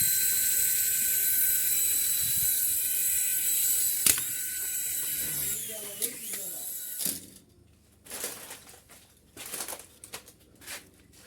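A battery-powered transparent toy gear car runs with a steady, high-pitched motor whine, then a few sharp mechanical clicks, followed by choppy bursts of gear noise with a voice toward the end.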